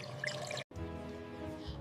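Water trickles little by little into parotta dough made with flour, egg and milk, a faint, steady pouring sound with one brief break and no talk.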